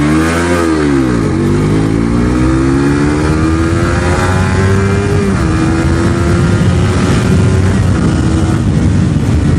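A Suzuki motorcycle in second gear revs up toward 8000 RPM, its engine loud and close with a rising pitch that then holds a high, steady drone.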